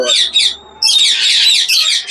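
Loud, close squawks from a parrot at a large parrot farm in Dhaka, in harsh repeated bursts, with a short pause before a longer raspy run of calls.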